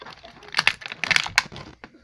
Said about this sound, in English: Go deep in with the scissors.